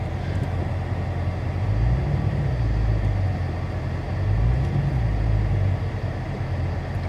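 A Dodge Charger Scat Pack rolls slowly into a garage, its engine a steady low rumble with deeper swells as the throttle opens, close and continuous with no talking.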